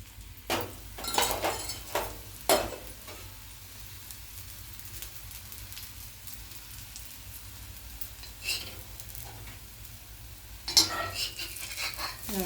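Besan dosa cooks with a little oil on a deep iron tawa: a soft, low sizzle runs throughout, punctuated by several sharp utensil clinks and scrapes.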